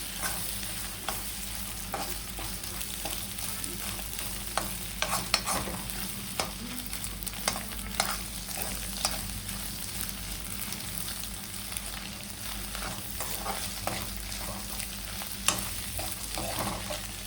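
Eggs scramble and fry in a pan on high flame, with a continuous sizzle and frequent scraping stirs of a spatula across the pan, steady and close throughout.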